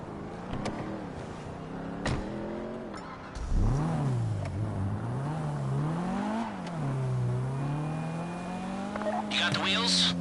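A car driven in a PS4 video game revs and accelerates, its engine tone rising and falling steadily and close, with brief tire squeals and clicks over the top and no talk.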